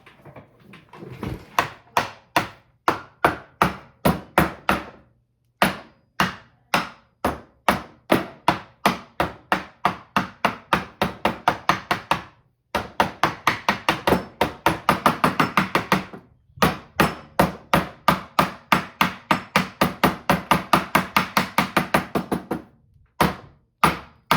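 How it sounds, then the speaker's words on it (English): A hammer tapping on a coin counting desk, producing dozens of quick, sharp knocks in steady bursts with brief pauses between runs, close and loud with no talking. "He told me to tap it with a hammer."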